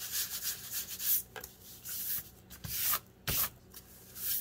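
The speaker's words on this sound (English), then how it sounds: "I'm not rubbing, I'm not pushing hard on the nail file." Light scraping and rubbing of a nail file drawn gently across paper, soft and close, in short irregular strokes with brief pauses, no talking.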